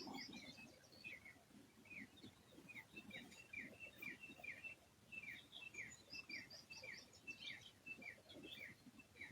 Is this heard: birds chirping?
yes